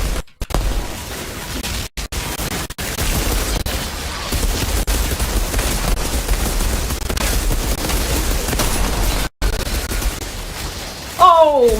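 Gunfire and explosive booms from the video game Outriders fill a dense, continuous battle mix, with a few brief dropouts and a sharp rising electronic effect near the end.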